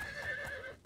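A horse in the video game Oblivion gives a short, close whinny with a wavering pitched cry, lasting under a second and cut off abruptly.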